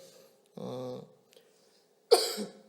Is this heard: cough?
yes